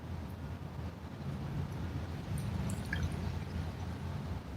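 River water splashes on rocks as a soft, steady wash, with a low rumble of wind underneath and faint drips near the end.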